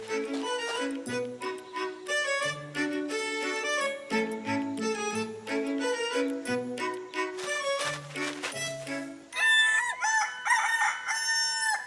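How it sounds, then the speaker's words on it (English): A cartoon rooster crows loudly in a kids' show, several drawn-out musical crowing calls over a bright playful music track, with a sharp jingly flourish near the end, no talk. "Roosters are male chickens that like to crow loudly."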